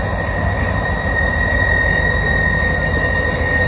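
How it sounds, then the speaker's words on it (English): A train rolls steadily through East Deerfield Yard, a dense continuous rumble of wheels and cars with high steady squealing tones from the rails, close and loud throughout with no talk. "Hey kids, you wanna hear what a real train sounds like?"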